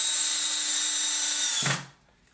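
Power drill boring a hole through a thick board made of two wood pieces, a steady high motor whine that cuts off abruptly with a brief thud as the bit finishes.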